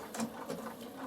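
A Bernina sewing machine stitches a decorative side-to-side pattern on boiled wool in a brief, soft, fast rhythmic patter, heard quietly without talk.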